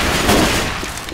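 Dense gunfire from guns in Left 4 Dead 2, a loud overlapping burst of rapid shots that fills the whole moment with little pause.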